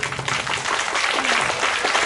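Audience applause at a school music program: a dense, even wash of many hands clapping that holds steady throughout, with faint voices mixed in.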